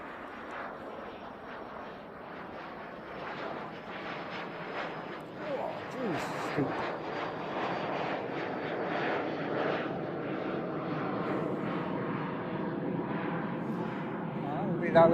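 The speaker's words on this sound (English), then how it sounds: "That little Cessna citation" A Cessna Citation jet takes off at Christchurch Airport, a faint, steady jet engine roar swelling slowly in the distance over background noise.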